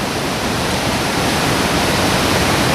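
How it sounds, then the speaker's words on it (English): A series of small waterfalls on a hillside in North Wales roars as a loud, steady, broadband wash of falling water, constant and unbroken. "Goes all the way up there to the top of the hill, which is feeding this bigger series of smaller waterfalls"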